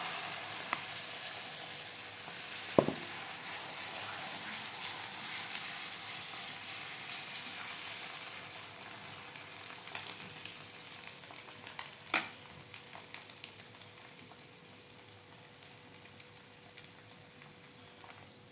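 Beaten egg mixture for an omelette frying in hot oil, a faint, steady crackling sizzle with an early sharp clatter and a few small pops, heard alone.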